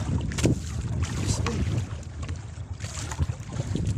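Strong wind buffets the microphone on a fishing boat at sea, loud gusty rumbling that surges and eases with choppy water noise underneath.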